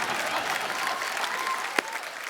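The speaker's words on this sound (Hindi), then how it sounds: "पूरी टीम के लिए जोरदार तालियां" Audience applause fills a studio comedy-show set, steady dense clapping throughout with one sharper clap standing out near the end.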